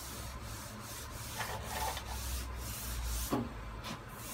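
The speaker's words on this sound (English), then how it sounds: "its just just the action of the sanding and the switching is enough to know to make it perfect" Block sanding the body of a Toyota Camry before primer, a soft, close, continuous rubbing hiss in repeated strokes with a few sharper scrapes.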